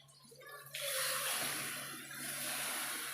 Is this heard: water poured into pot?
yes